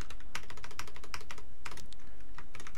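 Quick, irregular clatter of keys on a computer keyboard while writing a Lua script, close and steady in bursts with brief pauses, no voice present.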